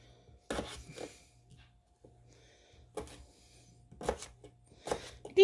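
A knife dicing a skin-on potato on a cutting board, a few sparse quiet chops in small clusters with pauses between, close and faint, with no talking.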